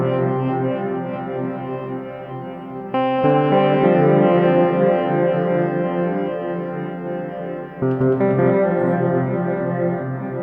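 A Pladask Elektrisk Draume V2 pedal in grain mode scatters an Elektron Digitone synth chord into shuffling, echo-delay-like repeats. The sustained, dense tone swells and shifts at two points with no voices present.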